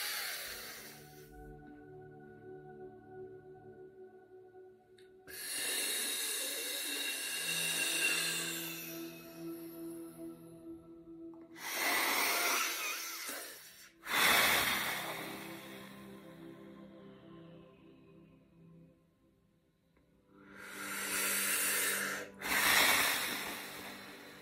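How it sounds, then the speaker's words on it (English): Slow deep breaths are drawn in, held, and blown out forcefully during a breathing exercise, heard as several long airy rushes separated by quiet pauses, close to the microphone. "Deep, strong, deep breaths and blow out breath."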